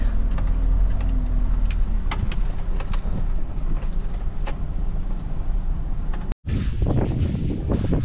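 Wind buffets the microphone on a rooftop in Arayat in low rumbling gusts with a steady roar underneath, briefly cutting out before resuming stronger and closer.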